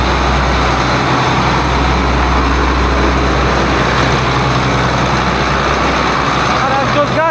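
A Case IH Magnum 7140 tractor engine idles through its first running hours, a loud, steady, deep rumble close by that holds an even level throughout.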